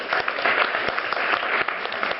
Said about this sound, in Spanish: primero un aplauso para ustedes.